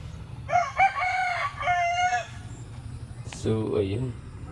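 Rooster crowing near a rice field during planting, one long close call with a clear rising and falling pattern, then a lower reply, over a steady low rumble.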